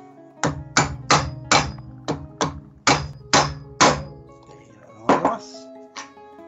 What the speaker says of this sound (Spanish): como cuesta un poquito, vamos a usar el martillo de plomo.